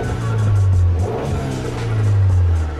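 A Subaru Impreza engine revs hard, rising and falling in pitch with a deep, throaty roar that stays loud and close for the whole stretch.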